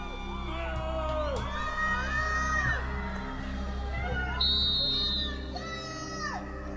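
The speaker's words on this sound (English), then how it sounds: "Heckling Amber and her witnesses." Johnny Depp supporters outside the Virginia courthouse shouting and heckling at Amber Heard and her witnesses, a noisy outdoor crowd of overlapping yells and whoops, with one shrill high cry standing out near the end.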